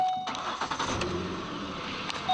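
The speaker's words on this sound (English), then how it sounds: "Let's go ahead and start it up." A 2009 Ford Explorer Sport Trac with a 4.0-liter two-valve V6 and 125,000 miles cranks briefly and catches, settling into a steady running rumble, heard alone and close.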